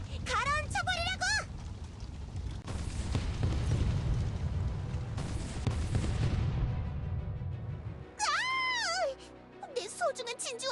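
Cannons bombard a sandy island in the game Trickcal, with a run of heavy booms in the middle framed by squeaky, chattering cartoon character vocalizations.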